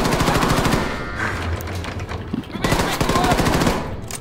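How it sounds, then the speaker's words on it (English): Sustained rapid gunfire in the video game Wolfenstein 2 The New Colossus, with dense, loud automatic bursts and a brief lull in the middle. "Shots are louder."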